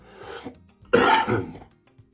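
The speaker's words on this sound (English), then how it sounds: "even though I have a really minimal cough" A single rough cough or throat-clearing burst, close and fairly loud, preceded by a faint breathy rasp.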